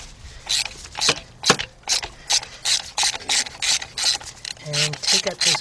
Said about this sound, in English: I got a 16mm deep socket with a 12-inch 3/8 drive extension.